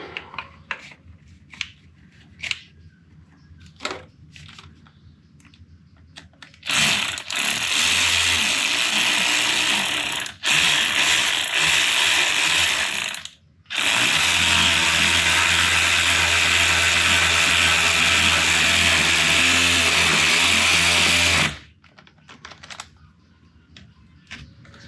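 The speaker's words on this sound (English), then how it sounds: "The battery's dying on my wrench here." Battery-powered wrench at work on a Vauxhall boost pipe, with scattered light clicks and taps, then two long loud buzzing, rattling bursts up close, separated by brief gaps, before quiet clicking returns.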